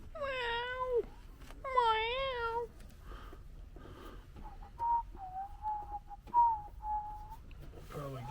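A cat meows indoors twice in quick succession, fairly close, then lets out a series of softer, steady mews and chirps.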